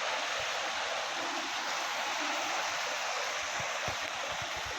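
A river flows steadily under a light drizzle outdoors, a soft continuous wash of rushing water with faint low thumps, heard at a moderate distance and with no voices.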